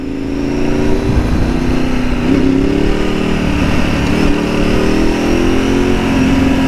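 A motorcycle engine pulls steadily under acceleration, a continuous mid-pitched drone that rises slightly in pitch and holds loud and close throughout.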